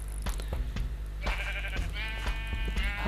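Sheep in the Minecraft video game give a few distinct bleats over steady background game ambience, with the nasal cries clustered in the latter half.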